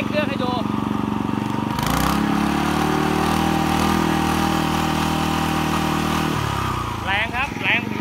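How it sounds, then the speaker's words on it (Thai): An old Japanese Kubota sprayer pump engine runs steadily, then rises sharply as it revs up, holds a loud high drone, and drops back to idle; a voice speaks briefly. "แล้วจะเร่งเครื่องให้ดู"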